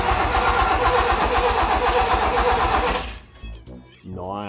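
A Toyota Corolla KE55's 4K-C engine cranks with a rapid, rhythmic starter churn for about three seconds, then stops, and someone speaks close by in the quiet that follows.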